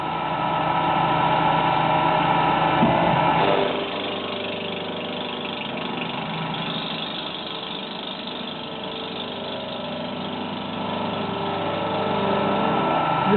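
A milling cutter 7mm wide cuts a slot in a brass clarinet mouthpiece, giving a steady, fairly loud machine drone with a whining motor tone, dropping slightly in level after a few seconds and continuing unbroken.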